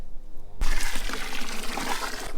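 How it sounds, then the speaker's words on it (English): Water gushes from a tap into a tub to soak freshly picked romaine lettuce on a vegetable farm, a sudden start followed by a steady, loud rushing fill. "we fill up a tub with water and we soak the lettuce in the water"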